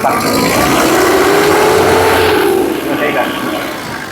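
A 2014 Tata Sumo engine revving hard, a loud sustained roar that rises and holds, then eases off toward the end.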